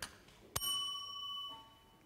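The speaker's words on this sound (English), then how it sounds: "I have a little bell and I ring it." A small hand bell rings once as a time warning, a single bright ding with a clear ringing tone that fades over about a second and a half in a quiet room.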